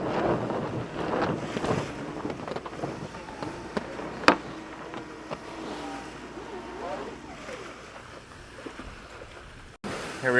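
A sailboat falling off to run with the wind during sea trials, with steady wind rush and water noise around the hull, occasional creaks and a sharp knock, continuous and fairly close.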